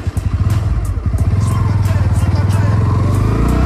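A 2023 Bajaj Pulsar NS 160 motorcycle accelerates hard in first gear, its loud, close engine note climbing in a fast, pulsing rev that rises steadily and stays buzzing near the top, with no talking.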